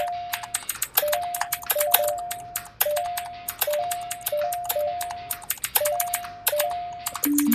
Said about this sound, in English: It's always a phone. It's never anything else.